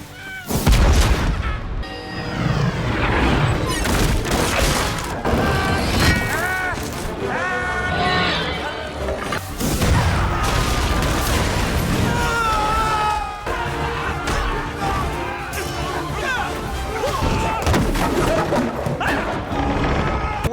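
Cannon fire in a pirate film battle scene: repeated heavy booms and crashes rolling through a dense, loud mix with music, shouting crowd and debris impacts lasting the whole stretch.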